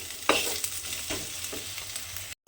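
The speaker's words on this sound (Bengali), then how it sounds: "এবারে আদা রসুনটা দিয়ে আমি একটু ভাজা ভাজা মতো করে নেব" Ginger and garlic sizzle in hot oil for a moung dal recipe, a steady close frying hiss with a couple of light stirring scrapes and no talking.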